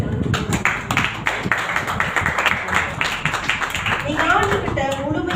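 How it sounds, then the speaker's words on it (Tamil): A church congregation claps in a brisk, uneven burst of many hands, close and lively, with voices talking over the applause. "கர்த்தருக்கு ஒரு பெரிய பலத்தை கைத்தட்டணும்."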